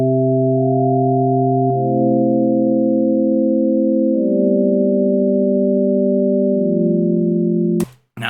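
Sustained FM synth pad from Ableton Live Operator, a layered chord of steady tones that shifts voicing several times, holding smoothly for about eight seconds before a brief click and cutoff at the end.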